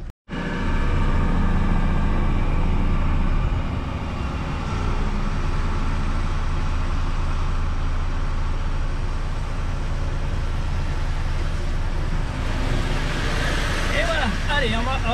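A semi-trailer truck reverses out at a waste collection site, its diesel engine idling and grinding low and steady for a long stretch, nearby traffic and voices mixed in.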